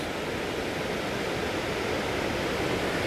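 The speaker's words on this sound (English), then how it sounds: "combination of a dam and the waterfalls below the dam where the water hits the rocks." Steady roaring rush of water falling below a dam and crashing onto rocks on the Idaho Falls river, a dense continuous hiss at close range, no voices.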